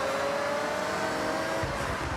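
Mazda MX-5 Miata engine in the Forza Horizon racing game, a steady continuous drone with a sustained tone, held at an even loudness for a couple of seconds with a low rumble rising near the end.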